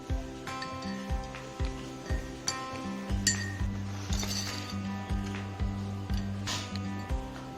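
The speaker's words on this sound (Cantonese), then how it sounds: "啲熱水落嗰個燉盅嗰度，冚翻個蓋啦" Ceramic clinks ring out repeatedly as a lid is set onto a ceramic stew pot of hot water, bright short knocks in a steady rhythm over a faint background tone.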